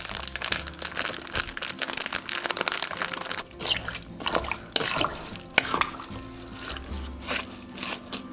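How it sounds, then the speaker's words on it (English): Seasoning packet emptied into a soup pot: crinkling of a paper packet with soft pouring and rustling near at hand, alongside faint kitchen water sounds. "I'm gonna put half of this packet in it."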